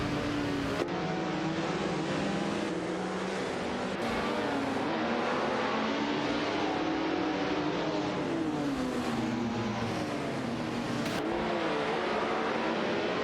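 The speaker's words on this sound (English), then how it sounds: "Jinx shoot faster in the Renault Alpine A442B is closely tussling with Cedric in the Porsche 936 for the 5th position" Video game race cars, a Renault Alpine A442B dueling a Porsche 936, engines screaming at high revs with pitch sweeps as gears change and cars close in, loud and unbroken, with a few abrupt cuts.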